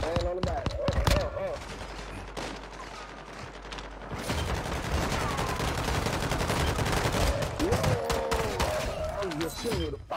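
Rapid pistol gunfire in a video game during a hot-drop match, dense bursts of shots over continuous game noise, with intermittent voices talking over the action.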